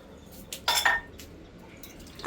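Pots and dishes are washed by hand in a home kitchen, with a few clinks of metal and glass and soft splashes of water, brief and fairly close, with no voices.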